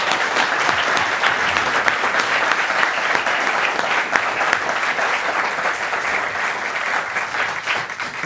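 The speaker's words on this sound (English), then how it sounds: "Let's give you and yourselves a round of applause." A live audience at a talk program gives a steady round of applause, dense and even clapping that holds at a constant loud level throughout, with no voices over it.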